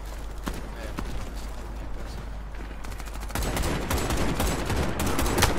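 Gunfire from an old sniper rifle with a weak, air-rifle-like report in the Warface shooter game, sharp shots scattered through a steady rush of battle noise that thickens in the second half, with a voice talking over it.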